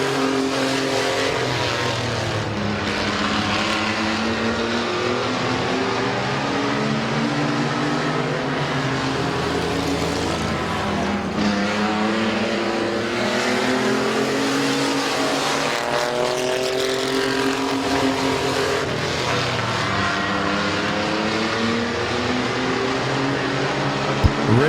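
Race cars circling at Midvale Speedway, with a loud continuous engine roar that rises and falls in pitch as cars accelerate through the turns, sustained throughout with no break.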